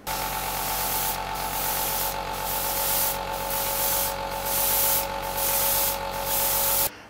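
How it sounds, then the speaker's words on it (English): A steady hiss of Tamiya lacquer paint spraying from an airbrush or aerosol over a masked model kit, running continuously for several seconds with a faint underlying hum. "We've put Tamiya tape and we are just about to spray a different lacquer on top"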